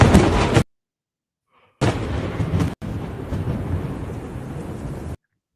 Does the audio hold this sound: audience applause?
no